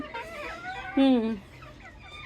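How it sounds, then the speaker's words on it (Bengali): A rooster in a hen's nesting spot calls out with a short, rising, strained crow-like cry near the middle, close by over a quiet indoor background. "দেখেন মোরগ কেমন করে শব্দ করতেছে।"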